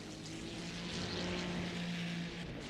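A race car engine in a Le Mans sim racing game drones and rises steadily as it throttles up between the two parts of the Ford chicane, a continuous buzzing tone with no voices.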